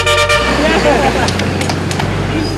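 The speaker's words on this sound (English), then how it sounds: "Come on, everybody, keep honking, keep honking." Several car horns toot over heavy street traffic in Ho Chi Minh City, a long blare followed by shorter honks, loud and close, with engine rumble beneath and people talking throughout.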